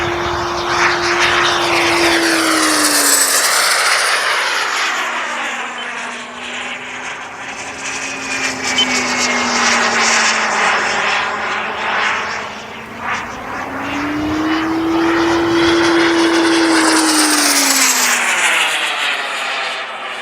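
A Boomerang Lancer RC jet flies past repeatedly, its turbine whine rising and falling as it swoops near and away, loud and continuous with no talk.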